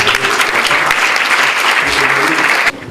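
Audience applause at a book-signing ceremony for African literary works: loud, continuous clapping from a crowd close by, with a faint voice underneath, cutting off abruptly just before the end.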